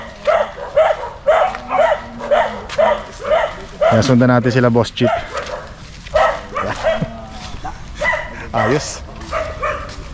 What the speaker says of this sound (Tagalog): Galit sa atin yung mga aso.